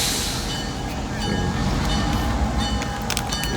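Tennessee, Alabama and Georgia Railroad locomotive number 80 rolls toward the listener at a railroad museum, a rumbling engine drone with wheel squeals and clatter building over it, loud and close.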